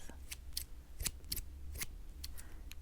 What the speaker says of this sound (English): That was my handbag scissors.